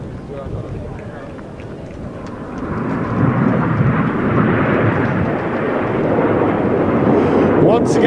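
Jet aircraft of a synchro pair at a Czech air show roar overhead, a broad rumbling engine noise that swells and stays loud and sustained, with an announcer talking faintly beneath.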